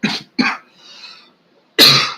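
A man coughs harshly and close by, two quick coughs in a row, a brief rasping breath, then one more heavy cough after a short silence.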